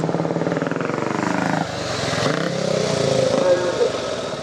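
Vintage motorcycles racing at the Brooklands Museum Motorcycle Day, a close throbbing engine note that revs and shifts pitch, with a voice talking over it.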